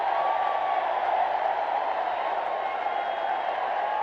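A baseball crowd at Memorial Stadium roars continuously after a grand slam home run in a 1986 Rangers-Orioles game, a dense, sustained wash of cheering heard from within the stands with no break.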